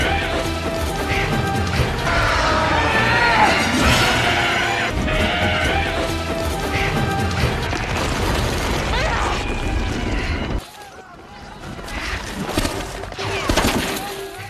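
A monster smashed to pieces outside a temple in a Lara Croft film, loud crashing, shattering and heavy impacts under a dense soundtrack, ending abruptly before quieter rumbling debris.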